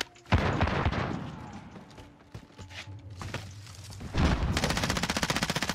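Gunfire from the air in the shooter Warzone, with a dense rattle of shots and thuds, then a rapid, steady burst of automatic fire toward the end, loud and close.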